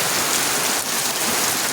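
Heavy rain falls steadily on a village in Gobindapur, Feni district, Bangladesh, after a full night of downpour, a dense unbroken hiss of drops striking surfaces, loud and close with no pauses.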